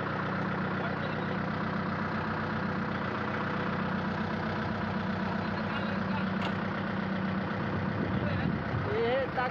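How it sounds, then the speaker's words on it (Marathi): A farm tractor that had stalled is started and keeps running with a steady, moderately loud diesel drone and rhythmic throb throughout. "लगेच तात्याचं ट्रॅक्टर ओढायला चालू केलं"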